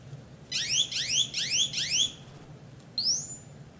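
Taser warning alarm, a loud electronic warble of four rapid rising-falling chirp bursts, then a pause and a single sharper sweeping tone, close and clear over quiet room noise.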